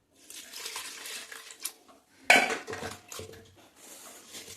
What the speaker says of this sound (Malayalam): ഇനിയിപ്പോൾ നമുക്ക് തലയും ഉടലും ഒന്നായിട്ട് നമുക്ക് കഴുകാം.